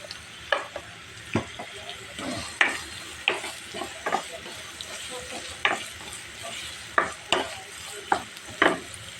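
A paste of hand-chopped chilli, garlic and ginger fries in a pan under a constant sizzle. Irregular clicks and scrapes from a stirring utensil sound up close throughout, and no one speaks.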